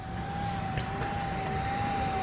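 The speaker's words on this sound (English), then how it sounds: "They have a little fan on them, dude." A small cooling fan built into a Boslla LED bullet headlight gives off a steady, thin whine over a bed of airy whooshing noise, continuous and close.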